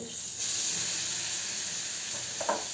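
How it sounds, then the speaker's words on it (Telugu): Asafoetida tempering tipped into hot oil for a drumstick-leaf chutney, giving a steady close sizzling hiss that swells after a brief lead-in and carries on with a few faint crackles, no talking. "ఇప్పుడు ఇది మనం ఇక్కడ ఇంగువ నూనె కాచుకుంటున్నాం కదా, ఈ ఇంగువ నూనెలో వేసేద్దాం"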